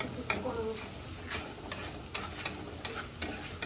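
Onions fry in a pan for a soya chunk veg biryani, giving a soft, faint sizzle with a few light stirring clicks and scrapes.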